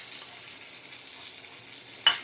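Pointed gourd slices fry in a pan, a faint steady sizzle ending with a sudden brief sharp clatter.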